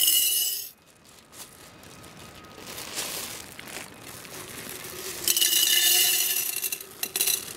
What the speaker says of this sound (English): Little glass bobbly marble things.